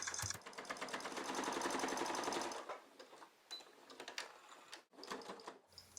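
Sewing machine stitching along the long edges of red cotton fabric handles, a close rapid whirring run for about two seconds, then a few brief intermittent bursts.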